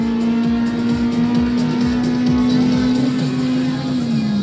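A loud Honda Civic race car, a third-generation with a 1.5 turbo, roars under hard acceleration on a 402-metre drag strip, its engine holding a steady high drone at close range with no talk.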